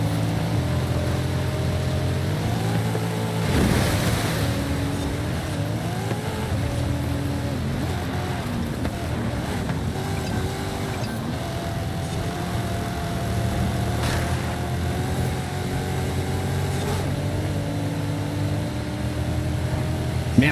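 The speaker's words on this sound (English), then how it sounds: "I can hear freaking Samu's car in my ear" A steady, loud car engine drone from the game Forza Horizon 5 runs throughout, its pitch holding mostly even with slight rises, like a revving motor heard up close.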